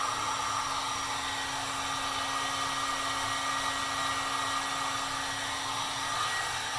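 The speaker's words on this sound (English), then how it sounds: "I've found that heat shrink tubing likes to be heated from all angles to get it fairly shrunk" A heat gun blowing on heat shrink tubing over the wiring of a 1929 Atwater Kent 55C radio chassis, a steady, close whooshing drone with a faint constant whine that runs unbroken throughout.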